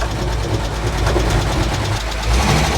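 A Mercedes Unimog reversing, its engine giving a steady, close, low rumble with a faint knocking texture that holds without a break throughout.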